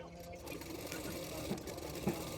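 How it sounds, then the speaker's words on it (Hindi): Home sewing machine stitching along the folded back edge of a princess-cut blouse piece, a steady close whirring hum with faint stitch rhythm and light bumps, soft and continuous under low room noise. "अभी उसको पीछे की तरफ मैं फोल्ड करके सिलाई कर लूँगी"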